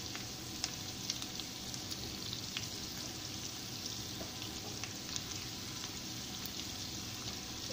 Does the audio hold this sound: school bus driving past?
no